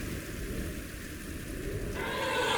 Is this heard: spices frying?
no